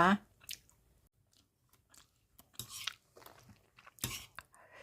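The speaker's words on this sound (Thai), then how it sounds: "กินมากินข้าวกันต่อจ้ะ" Close, quiet chewing and soft crunchy bites while eating a one-plate rice dish topped with pork, irregular mouth sounds with brief pauses and some faint talking.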